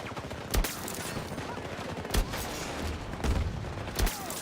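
Revolver firing in Battlefield 2042, four sharp, spaced single shots with heavy low thump, set against a busy battlefield din of distant gunfire and noise.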